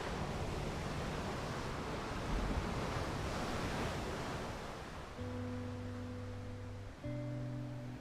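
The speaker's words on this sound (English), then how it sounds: "watching the waves crash and hearing the wind blow through the trees" Ocean waves break steadily on a beach while wind blows, a soft continuous wash of surf with gusty noise and a faint low tonal hum near the end, no voices.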